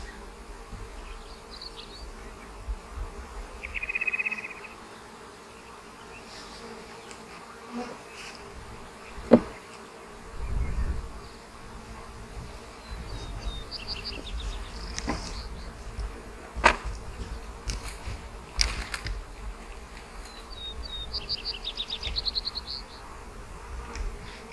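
Honey bees buzzing around hive frames while a nuc is installed, a continuous low drone with individual bees whining past close by at intervals, plus occasional soft knocks and handling noises.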